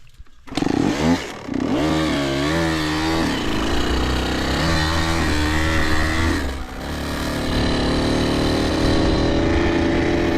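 A Kawasaki KX85 dirt bike engine revs hard and steadily on a track, its pitch rising and falling as it accelerates, then drops briefly before picking up again.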